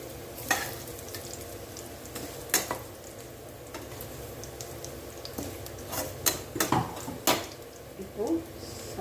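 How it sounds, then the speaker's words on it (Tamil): Garlic sautés in a pan for a green turkey berry pickle, with a soft sizzle under occasional spatula scrapes and metallic clinks against the pan. "பூண்டு வந்து வதங்கிடுச்சுங்க"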